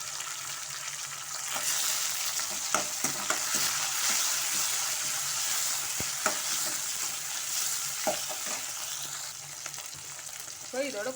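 Onion and tomato sauté in a pan, a steady soft sizzle with scraping stirs from a spoon at intervals, close and fairly quiet, no talking.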